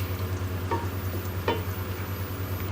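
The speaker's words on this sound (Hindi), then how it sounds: "हम जो है प्याज को फ्राई करते हुए साथ साथ चलाते रहेंगे" Onions fry in a pan for Degi chicken korma and are stirred to brown evenly. A low, steady sizzle sits under a constant hum, with two short scraping strokes of a spoon.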